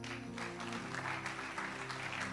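A church congregation claps steadily at a prophetic gathering. The dense, continuous applause runs the whole way through over a low, sustained tone.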